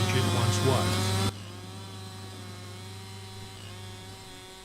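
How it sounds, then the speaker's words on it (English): Chainsaws whine in a forest in a loud buzzing burst that cuts off abruptly, then a steadier, quieter engine drone continues alone. "The distant roar of chainsaws interrupts the isolation."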